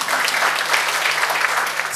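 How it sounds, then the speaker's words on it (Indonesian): Church congregation at a Christmas service in Lumajang applauds: dense, even clapping from many hands, loud and close, with a faint steady hum beneath. "Tidak ada yang tepuk tangan buat Tuhan."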